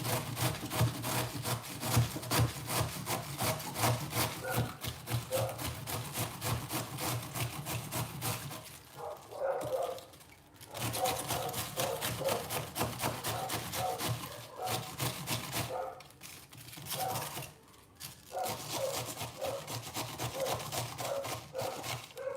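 Vegetables for a vegetable dumpling filling are rubbed against a hand grater in rapid, rhythmic rasping strokes, steady for several seconds, then broken by brief pauses before the scraping resumes, close and alone.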